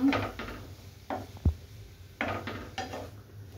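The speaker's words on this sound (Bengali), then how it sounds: "একটু নেড়ে নিচ্ছি মিডিয়াম।" A spoon stirs tomatoes cooking in a pot for homemade tomato soup, giving a few close scraping and clinking strokes against the pan with a sharp knock in the middle.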